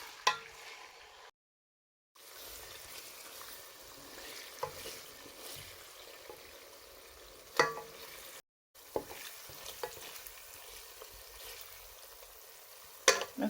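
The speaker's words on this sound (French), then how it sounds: "Je vais laisser le tout sauter une bonne dizaine de minutes pour laisser le temps à la tomate de bien frire." Tomato paste frying in a pan as a base for rice with beef, a steady soft sizzle broken by occasional stirring clatters and two brief silences.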